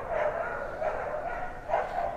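Dogs barking at puppy kennels off in the distance, faint yips and barks under a steady wash of outdoor noise, with no talking.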